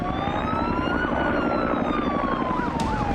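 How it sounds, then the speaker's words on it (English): Several police car sirens wail and whoop at once at Bondi Beach, loud and close, overlapping in a continuous rising and falling chorus. "There's police cars pulling up."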